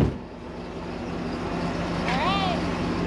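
A C4 Corvette engine runs with a steady, deep rumble that holds at a fairly even level throughout, with a brief high squeal rising partway through.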